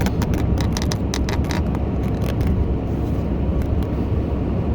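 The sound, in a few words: car driving to town on cold road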